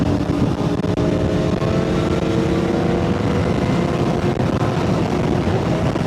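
A 600cc motorcycle engine revs near the top of its RPM range, a loud, sustained high-pitched whine with rising harmonics and wind rush, riding alongside bigger bikes.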